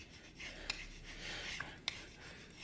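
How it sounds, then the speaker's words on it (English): A small hand scraper rasps across an engineered hardwood floor, removing buildup in soft, faint scraping strokes with a few tiny clicks. "use my little scraper. So you see that little build up right there? Just gonna scrape that off."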